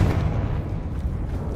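A Confringo blasting spell from Hogwarts Legacy erupts as a loud, rumbling explosion that fills the whole moment, with a deep, sustained boom and no pause.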